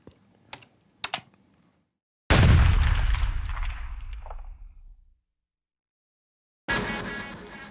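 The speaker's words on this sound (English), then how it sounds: "that's a gunshot, a rifle" A single loud rifle gunshot cracks out and rings into a long decaying boom, preceded by a few faint clicks and followed by a sudden bright noise burst.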